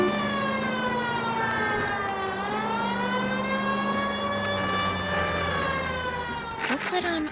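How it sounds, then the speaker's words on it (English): A police car siren wails and sweeps up and down in the video game LA Noire, loud and continuous over a low engine hum, with a brief clatter at the end. "We'll put on our police sirens, and we get to Bishop's apartment as fast as we can."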